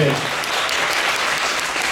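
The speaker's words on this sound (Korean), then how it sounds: "큰 박수로 맞으시기 바랍니다." Audience applause at a musical curtain call and stage greeting, a dense steady wash of clapping from a theatre crowd, loud and sustained throughout.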